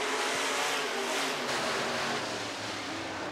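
Sport modified race cars on the RPM Speedway dirt oval during a heat race: a dense, loud roar of several engines at full throttle holds steady throughout, with no talking.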